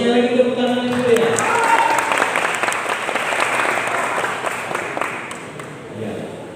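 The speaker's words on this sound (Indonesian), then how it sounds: "Kalau saya lagi tepuk tangan yang mulia." Applause from the audience at a Quran quiz semifinal for young women, steady clapping filling the hall throughout, with voices and crowd murmur mixed underneath.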